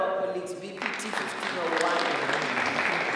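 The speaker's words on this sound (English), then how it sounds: "Let's applaud our colleagues" Audience at a Unisa College of Education student support seminar bursts into applause for colleagues, a speaking voice giving way to a steady, dense wash of clapping that fills the room.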